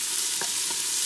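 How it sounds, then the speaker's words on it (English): Peppers and zucchini sauté in a pot for chili under a steady, loud sizzle, with two quick stirring scrapes cutting through it. "And give that a quick stir."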